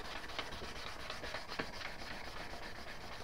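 Wooden knife handle with rivets being hand sanded, a soft, continuous rubbing hiss of back-and-forth strokes, close but quiet, with no talking.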